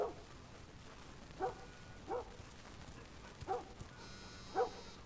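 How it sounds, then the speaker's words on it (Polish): Dogs bark in The Last of Us Part 1 video game: a few faint, separate barks spaced a second or so apart, distant and quiet over a low background hum. "Słyszę psy."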